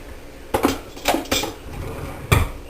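Milk chocolate morsels being stirred into German chocolate cake batter, a utensil clinking and scraping against the mixing bowl in a few sharp knocks with quieter scraping between.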